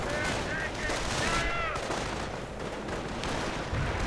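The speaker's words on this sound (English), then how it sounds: "And there we go, sniper opening up." A sniper rifle fires in a 1v1 World War II real-time strategy match, its shots mixed into dense, continuous battle noise with other gunfire, loud and steady throughout.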